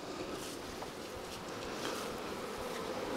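Honeybees buzz steadily around an open beehive during a colony merger, a dense continuous drone of many insects up close, with occasional faint knocks of hive parts.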